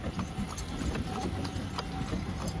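Horse hooves clip-clop steadily from a horse-drawn cart on a street outside Agra Fort, India. The close, regular hoofbeats sit over constant road and traffic noise.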